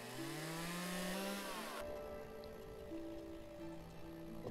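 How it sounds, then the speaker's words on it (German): A chainsaw in the Lumberjack's Dynasty video game whines at high revs for nearly two seconds, then drops to a lower idling drone alongside steady ambient game sounds, with no talk. "Nimm doch die Kettensäge."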